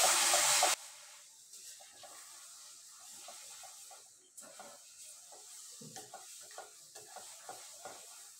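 Ground spice is stirred into pickle in a pan, with soft, irregular scraping and light sizzling at close range. A short loud burst comes at the start, then a quiet, uneven stirring rhythm follows.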